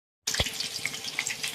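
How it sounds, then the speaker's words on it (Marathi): Water poured from a tap or vessel into a spice mixture with ajwain and turmeric, a close splashing gush that starts abruptly after a moment of silence and continues steadily. "तर आता मिक्स करून पाणी टाकून घ्यायचं."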